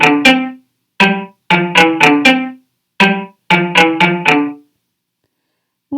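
A short melody played in Chrome Music Lab Song Maker with a string instrument sound, plucked-sounding notes falling into phrases split by brief silences. Each note decays quickly, and there is no talking.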